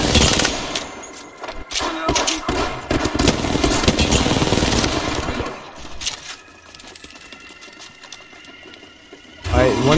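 Rapid automatic gunfire from an Apex Legends firefight sounds in dense, loud bursts through the first half, easing into quieter game noise and then returning sharply at the end, with players talking over it.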